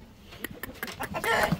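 A chicken clucks nearby in a short run of abrupt, irregular calls that rise into a louder, drawn-out squawk at the end, heard alone against faint background.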